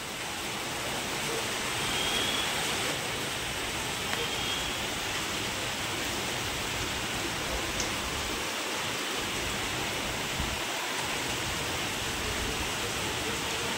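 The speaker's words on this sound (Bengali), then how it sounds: "ও বৃষ্টিটা আরো ঝরে এলো" Heavy rain falls steadily as a dense, unbroken roar that stays loud and constant throughout, with no voices over it.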